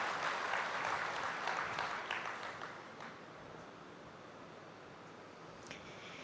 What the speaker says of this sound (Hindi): परम स्नेही अथक सेवाधारी मीठी ममता बहन का भी हम सब तालियों के साथ स्वागत करते हैं।